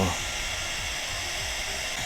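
A Realfit M335 portable fan running at level 199 blows a strong, steady, close airy whoosh like a hair dryer, constant from start to finish with no voices over it.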